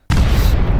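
A sudden, loud explosion bursts in after a brief silence, a heavy booming blast that stays dense and roaring to the end, with no talking.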